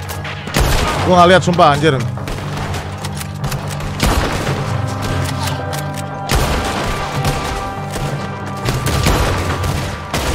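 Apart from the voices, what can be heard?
gunfire in video game Red Dead Redemption 2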